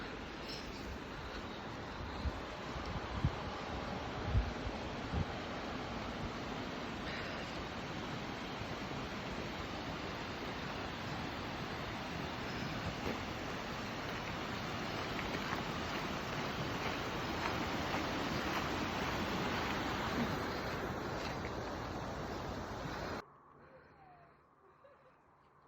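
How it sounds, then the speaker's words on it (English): River rushing through Big Cottonwood Canyon along a hiking trail, a steady broadband roar of flowing water heard up close for over twenty seconds before cutting abruptly to quieter sound. "You can hear the river."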